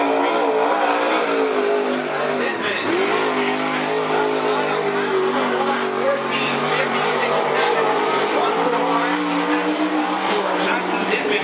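Race cars roar continuously at Cottage Grove Speedway, engines droning loud and steady with shifting pitch as they circle the track, while a voice talks over the noise.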